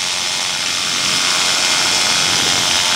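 A paramotor engine drones steadily and loudly in flight, throttled back to about 6,000 rpm while cruising around 33 knots, with a constant broadband roar and no voices.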